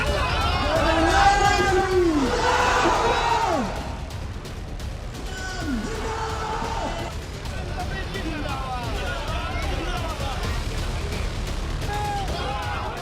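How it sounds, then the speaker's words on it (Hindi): Large crowd at a religious rally in Murshidabad, West Bengal, a dense murmur of thousands of people, loudest in the first few seconds and then a steady babble with scattered shouts, no single voice standing out. "पश्चिम बंगाल के मुर्शिदाबाद में हजारों की भीड़ उमड़ी।"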